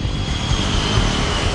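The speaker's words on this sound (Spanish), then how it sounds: "uno de los primeros aviones de propulsión despegó de Italia." An early jet airliner, a de Havilland Comet, takes off from Italy in 1954 with a loud, steady engine roar, sustained and unbroken, heard up close.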